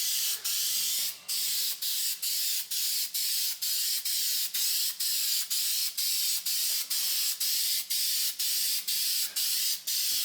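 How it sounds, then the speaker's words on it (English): A spray can coats an engine part from a 1968 Pontiac 400 GTO engine with paint, giving a steady hiss broken into a long run of short, evenly spaced bursts, close and alone without talk. "Giving it a couple of coats of paint today."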